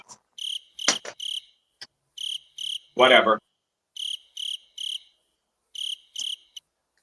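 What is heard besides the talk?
cricket chirping sound effect played on a soundboard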